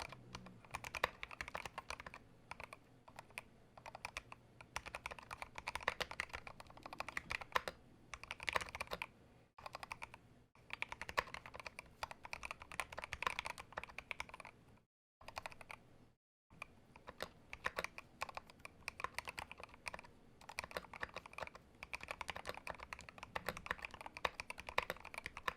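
Fast, continuous typing on a NEO G67 mechanical keyboard fitted with Tangie switches, dense clacky keystrokes close to the mic with two brief pauses, no talking.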